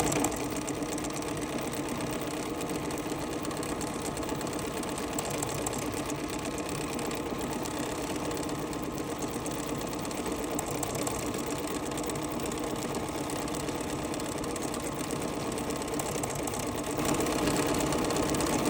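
A multi-direction embroidery machine stitches out a sampler, giving a continuous, fairly loud mechanical drone with a fast regular needle beat that holds steady throughout.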